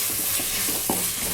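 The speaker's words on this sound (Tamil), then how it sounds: "வெங்காயம் தக்காளி போட்டு நல்லா வதக்கிக்கலாம்" Onion and tomato sauté in a pan for biryani, giving a steady, close sizzle with soft stirring scrapes and one brief clink partway through, with no talking.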